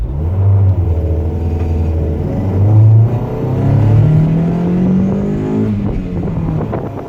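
A Mazda Miata engine fitted with homemade individual throttle bodies on a rough tune drives past up close, its loud, throaty drone rising and falling as it revs through the gears.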